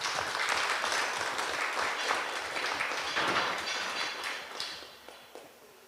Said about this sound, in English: I believe they all deserve a round of applause.